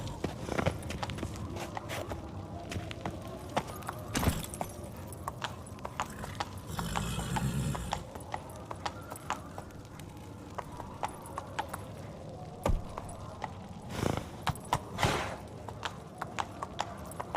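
Horse hooves clip-clopping in The Witcher video game, a rhythmic run of hoofbeats with scattered louder thuds and a brief rustling burst, game ambience underneath.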